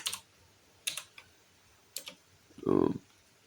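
A few sparse keystrokes on a computer keyboard while typing a command, quiet isolated clicks followed by a brief louder burst near the end.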